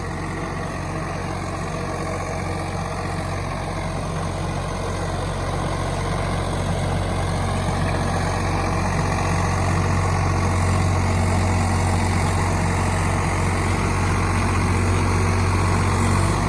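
A Swaraj 855 tractor with a rotavator runs steadily and loudly throughout, a deep low rumble with constant idling drone and no voices.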